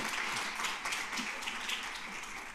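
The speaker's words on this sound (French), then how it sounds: "on peut l'applaudir." Audience applause after a conference talk on the Diwan of Biskra, a steady wash of many hands clapping at moderate distance, fairly soft and continuous, with no talk over it.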